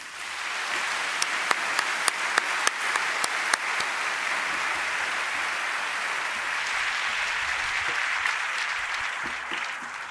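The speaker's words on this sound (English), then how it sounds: "Please join me in offering a warm Chautauqua welcome to Danielle Nierenberg." A large audience at a Chautauqua lecture applauds steadily, dense clapping filling the whole stretch, with a few sharper nearby claps standing out early on.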